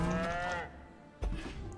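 A cow card in the Legends of Runeterra video game lets out a loud, clear moo that fades away, followed by a soft thump and a low rumbling game effect.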